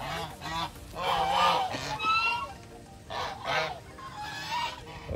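Breeder geese honking close by, a flock sending out repeated loud, harsh nasal calls in overlapping bursts that continue throughout.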